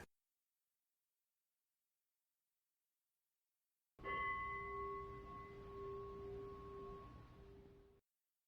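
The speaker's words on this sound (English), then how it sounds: "we'll be waiting to hit the bell to end the meditation" A single strike on a meditation bell follows silence and rings out clearly with a steady, sustained tone that slowly fades over about four seconds, heard alone.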